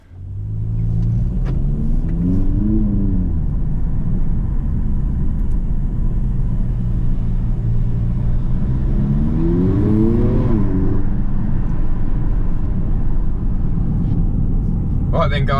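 A facelifted 2019 Audi TT Mark III coupe with 245 bhp drives along, its engine a steady low rumble heard from inside, rising in two smooth acceleration sweeps through the gears, loud and continuous with no talk.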